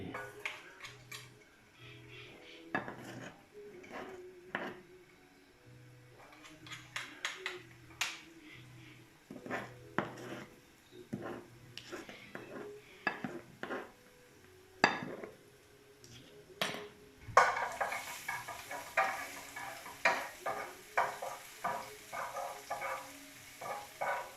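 Garlic and chili frying in hot oil in a wok, with scattered clinks of utensils against the pan and a sizzle that grows louder and denser in the final stretch, close by and with no talking.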